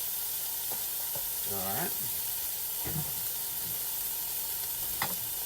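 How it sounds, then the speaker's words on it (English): Ground beef and ground turkey brown in a pan for chili with a steady, even sizzle and hiss, broken by a few stirring scrapes and a brief spoken remark. "It's still meat browning right now."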